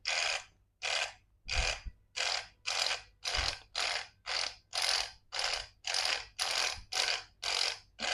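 A dreadlock machine sews locs in a circular motion, giving a steady run of about fourteen rhythmic mechanical ratcheting bursts, each close and fairly loud with short gaps between.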